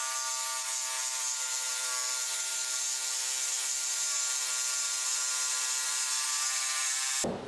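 A power saw cuts steadily through a kitchen worktop to make the opening for a sink, giving a loud, even, continuous whine that holds for several seconds and then stops abruptly, with no one talking.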